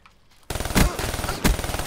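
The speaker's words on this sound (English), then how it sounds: "I shot him once." Rapid automatic gunfire from a shooting video game starts abruptly after a quiet opening and keeps up as a dense, loud burst, with two heavier shots standing out.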